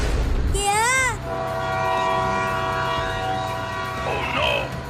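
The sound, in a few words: cartoon train approaching on the track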